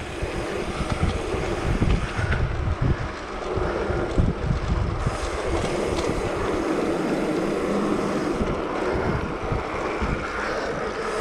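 Wind gusts buffet the microphone while mountain biking, making a loud, rumbling roar that swells and dips unevenly for the whole stretch, with no talk over it.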